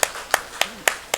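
A church congregation claps during a Sunday morning worship service, giving five sharp, evenly spaced claps in quick succession, close and clear with no talking.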